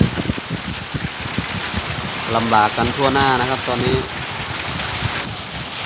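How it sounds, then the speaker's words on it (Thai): Strong wind and heavy rain make a steady broadband roar and hiss throughout, with someone talking over it in the middle. "ลมแรงมากเลยครับ ทั้งลมทั้งฝนนะครับ"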